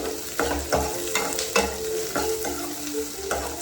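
Onion and chilli fry in a hot pan for an egg curry, with a constant sizzle broken by repeated scraping stirs of a spoon every half second or so.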